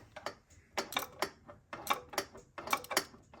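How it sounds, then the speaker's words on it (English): Quick bursts of ratcheting clicks from a 3/8 ratchet turning a long 14 mm socket on a header bolt of a Toyota 4Runner 5VZ-FE engine, close and crisp, in short repeated swings. "I'm coming up from the bottom with a long 14 and my 3/8 ratchet, and I'm able to get a pretty good swing on it"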